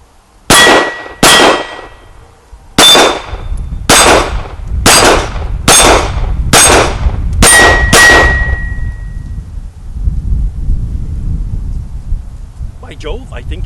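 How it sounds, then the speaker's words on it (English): A Glock 19 Gen 4 pistol fires nine loud, sharp shots in quick succession, each followed by a ringing metallic clang from a steel target, then the echoes fade outdoors. "it's my turn to shoot the Glock 19 on my specialty course"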